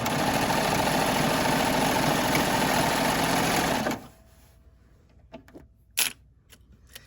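A serger sewing along the clipped edge of a pillowcase, a loud fast steady whir for about four seconds that stops abruptly, then a few small clicks and handling noises.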